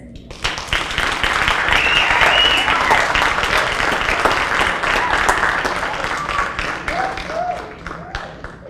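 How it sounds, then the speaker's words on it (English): A crowd at a Lakeland MLK oratorical contest applauds a student speaker with loud, sustained clapping that swells and then eases slightly, with a few cheers rising above it. "Let's give Briara Foster another round of applause."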